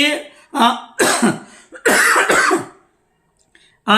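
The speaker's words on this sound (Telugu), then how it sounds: "నాకు బాగా కాఫ్ వస్తుందండి" A few harsh coughing bursts close by, spaced irregularly over a couple of seconds, then a quiet pause and one more short burst.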